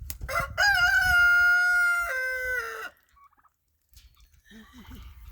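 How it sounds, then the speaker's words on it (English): Young turkeys at roost give a loud, near, drawn-out call lasting about two seconds, followed by a pause and then soft low clucks and rustling. "I think there's another turkey up here."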